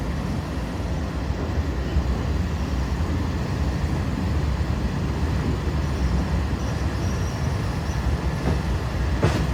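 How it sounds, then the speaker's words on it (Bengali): A special train rolls into Padma rail station as a dense, continuous rumble that holds at a steady level throughout, with a brief sharper hiss near the end and no voices. "পদ্মা রেল স্টেশন প্রবেশ করলো গণ অভ্যুত্থান স্পেশাল"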